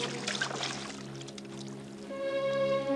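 Water poured out in a steady, close rush of splashing for about two seconds, then fading out as a sustained tonal background takes over, with no one talking.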